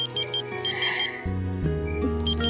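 A phone ringtone plays a steady electronic melody with layered tones, shifting pitch midway, loud and continuous.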